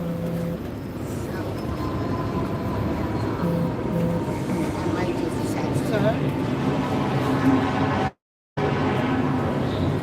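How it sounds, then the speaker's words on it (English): A New York City subway train rumbles steadily with a continuous metallic roar and faint squeals throughout, close and loud, briefly cutting out near the end. "All right, about to go into the subway and call it a day."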